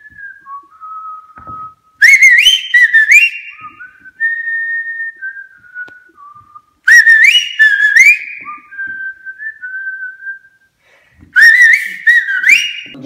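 A person whistles a melodic tune in clear, bright phrases, with three bursts of rapid trills and warbling notes separated by steadier held tones.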